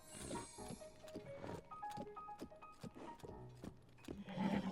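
A horse in Zelda: Tears of the Kingdom clip-clops with quiet, uneven hoofbeats, a neighing whinny rising over the steps and a tinkling game-music backdrop beneath.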